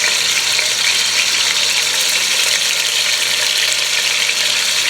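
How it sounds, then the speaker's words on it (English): Beef sears in a couple of tablespoons of hot oil in a pan, giving a loud, continuous, even sizzle with no talking. "We just want to get a nice sear on it."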